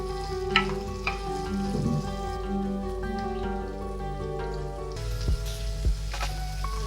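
Onion, curry leaves and green chilli sizzle and crackle steadily in hot oil for a South Indian beetroot rice, with a continuous frying hiss and occasional sharper pops and stirring clatter, close and alone without speech.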